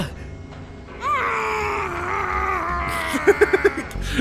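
A Steins;Gate 0 video game character screams with a towel stuffed in his mouth, giving a muffled, wavering, groan-like cry that rises and sustains. A few short, choked bursts follow near the end, with no speech.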